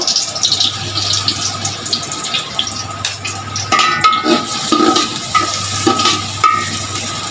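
Sliced onions fry in hot oil in a large cooking pot for birista while being stirred, giving a steady loud sizzle broken by scraping and clinking, with no talking.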